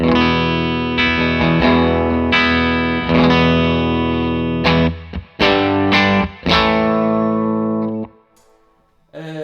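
Loud, full-bodied distorted electric guitar chords ring through a Victory V40 The Duchess amp and a 1x12 cabinet, strummed in several rhythmic hits, then cut off to near silence.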